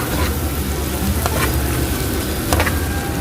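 Chicken hearts fry dry in a pan with no water, a loud, close, steady sizzle broken by a few sharp crackles as they are stirred.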